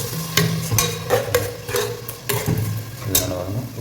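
Mint and coriander paste frying with chicken masala in a pan, soft steady sizzle with repeated stirring scrapes and light utensil clicks, close and moderately loud, no talking.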